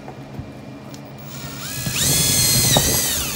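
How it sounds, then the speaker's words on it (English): An old rivet on an Airstream trailer is drilled out with a power drill. There is a quiet lead-in, then a loud, steady high-pitched whine that runs for about a second and a half before it starts to fade. "drilling out the old one."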